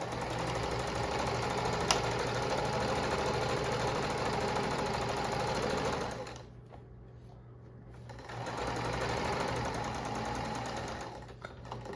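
A sewing machine stitches a micro tallit, running in a steady, fast motorized hum and clatter, pausing briefly for about two seconds before resuming, with no talk over it.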